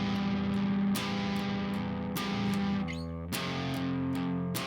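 Electric guitar strummed in a steady triple-time pattern with some strokes hit harder and the rest played softer, the chords ringing out with distortion, loud and close, with no voice over it.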